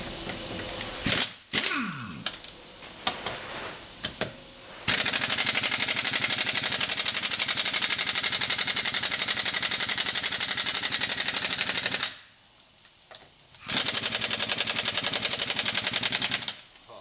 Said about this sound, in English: Okay, so now I got my air gun out.